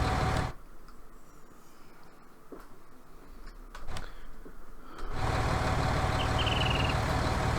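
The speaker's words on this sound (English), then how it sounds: "yes, I keep forgetting that I have that engine braking on." Truck engine braking in a farming video game, a low, steady engine drone that drops to a quieter rumble for a few seconds with a couple of knocks, then returns to full, even loudness.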